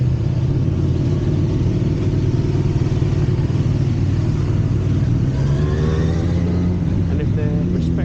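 Motorbike engines rumble past in a busy village street in Bourton on the Water, a steady loud drone with one machine revving and rising in pitch near the end, voices faintly mixed in.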